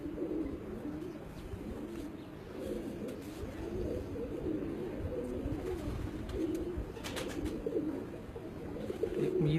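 Pigeons kept at home coo continuously in soft, low, overlapping murmurs over a steady background hum, with occasional faint clicks.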